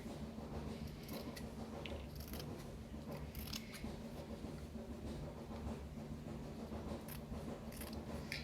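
Scissors snip through folded fabric down the center, giving a quiet series of short crisp cuts over a constant low background hum.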